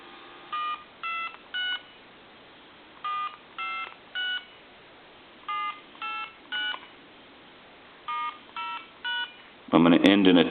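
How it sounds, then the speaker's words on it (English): Touch-tone keypresses on an AT&T Trimline model 210 telephone, three clusters of three clean, evenly spaced dual-tone beeps heard over a line, then a loud burst of rougher noise at the end. "Let's dial our numbers."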